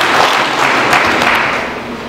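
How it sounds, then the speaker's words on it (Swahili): An audience at a Tanzanian public meeting applauds, a broad even wash of many hands clapping, loud and sustained throughout, with no speech over it. "tuwapigie makofi"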